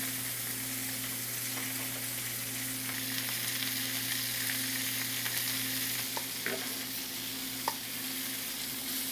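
Pieces of lamb sear in a hot, smoking pan, giving a steady, fairly quiet sizzle over a constant low hum, with a few faint clicks and small pops near the end.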